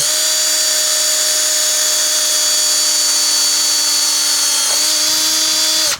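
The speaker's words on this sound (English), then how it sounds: "you cut your first pilot hole" A drill whines at high pitch, steady and loud, boring a pilot hole for DIY free-motion indoor cycling rollers. It runs continuously, with a slight dip in pitch near the end before stopping.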